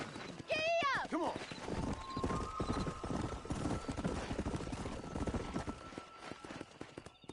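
Horses gallop in the Red Dead Redemption video game, a dense rapid clip-clop of hooves after a sharp whinny, loud and close and continuing throughout.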